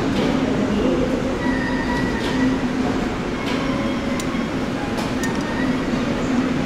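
A driverless South Korean metro train runs along the track with a steady rolling rumble, faint tonal hum and occasional metallic clinks and squeals.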